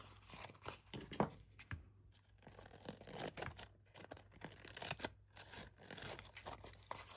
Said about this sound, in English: And then now we can cut this part here.